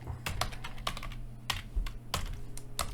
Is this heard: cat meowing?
no